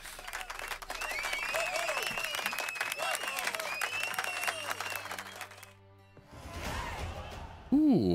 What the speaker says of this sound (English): It's a great applause track they placed in the game.